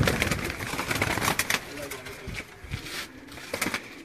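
Pigeons on a rooftop loft give soft, muffled coos between rustles and flapping, close by, while people talk over them.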